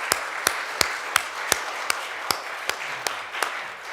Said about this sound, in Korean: 우리 박수로 좀 격려하면 참 좋겠습니다.